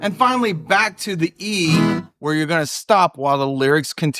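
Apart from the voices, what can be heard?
No distinct noise like a dog, phone or traffic.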